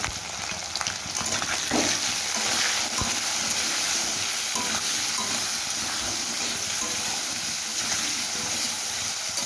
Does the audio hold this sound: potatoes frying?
yes